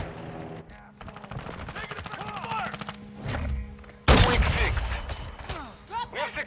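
Rapid automatic gunfire and explosions from the Modern Warfare 2 video game, sustained bursts with a loud heavy blast near the middle, mixed with radio-style voices calling out under the shooting.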